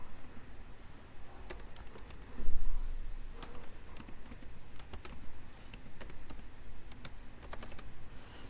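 Computer keyboard keys clatter in quick irregular bursts while code is typed for an Arduino infrared obstacle sensor simulation, a steady close patter with a few louder clusters and no talking.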